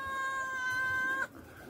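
A single drawn-out cat meow, high and tonal, ending abruptly, heard close with faint background noise.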